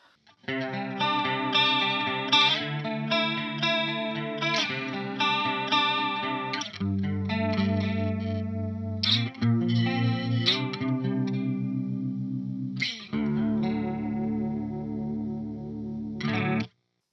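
Electric guitar through a Pogolab chorus pedal, a Boss CE-2 clone, with the rate turned fully up, plays strummed chords and picked notes with a fast, warbling shimmer for about sixteen seconds, loud and without talk.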